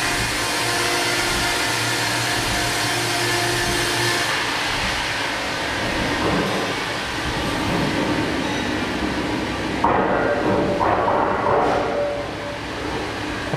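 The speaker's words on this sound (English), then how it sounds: "right now we cut second 30 millimeter thick board" Wood-Mizer WB2000 sawmill in a modern wood-processing factory cutting a 30 mm thick board, a loud continuous whining, roaring band-saw drone with a shift in tone near the end.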